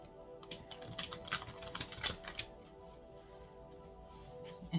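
Oracle cards are shuffled by hand in quick, crisp flutters and taps, a burst of rapid riffling strokes close by that trails off into quieter handling, with no talking.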